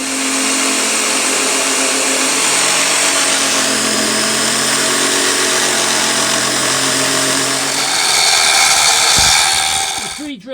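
An Evolution mag drill with a 26mm rotor broach bit bores through steel, a loud steady high-pitched whine and grind that holds throughout, then spins down abruptly at the end.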